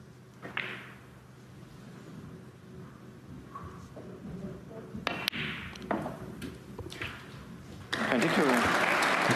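Distant snooker crowd applause drifts over from a neighbouring table at the Northern Ireland Open, with scattered claps building into a swell near the end, a commentator talking over it.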